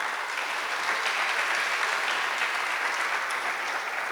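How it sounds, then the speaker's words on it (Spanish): A church congregation applauds together, a broad, even roar of clapping that holds steady and fairly loud throughout. "Damos aplausos al Señor, hermanos."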